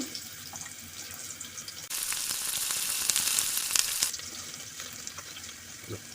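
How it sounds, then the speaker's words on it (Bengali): Chopped ginger and garlic hit hot oil for soybean khichuri, a quiet hiss that bursts into a loud close sizzle for about two seconds, then settles back to a softer crackle. "তেল গরম হয়েছে এখন দিয়ে দেবো আদা কুচি দিয়ে দেবো রসুন কুচি"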